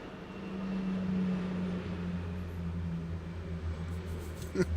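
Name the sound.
airplane flying overhead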